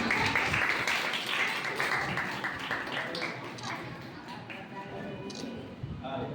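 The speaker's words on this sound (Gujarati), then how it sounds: "આપણે બધા તાળીઓથી વધાવશું" Audience applause at a student felicitation ceremony in a village hall, a dense patter of many hands clapping across the whole stretch, gradually thinning and softening toward the end.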